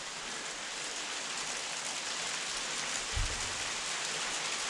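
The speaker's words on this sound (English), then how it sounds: "Frozen rain." Steady hiss of freezing rain pattering on surfaces, even and continuous, with one soft low thump partway through.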